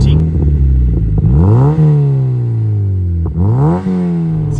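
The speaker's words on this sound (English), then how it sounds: "So this is a Cobra road exhaust" BMW G87 M2 fitted with a Cobra road exhaust accelerating hard on a dual carriageway, its loud engine note climbing in pitch through the gears, with brief drops at the shifts before it rises again.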